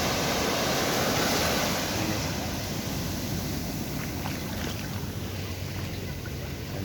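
Sea waves at high tide wash and roar steadily at sunset, with a loud broadband rush that swells slightly at the start and then holds, along with faint distant background activity.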